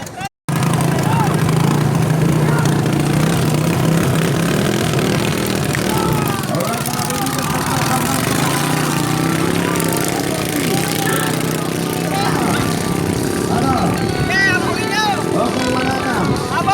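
Loud, roaring racing boat engines at a bangkarera boat race in Arevalo, Iloilo City drone continuously close by, a dense rumbling mix of several motors, with voices faintly underneath.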